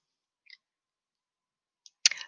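A computer mouse clicking while a teacher page is saved: a faint single click, a brief pause, then a closer, sharper double click in an otherwise silent room.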